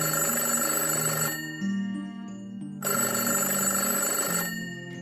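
A telephone rings in two bursts of bright, buzzy electronic ringing separated by a short pause, loud and near with no one talking.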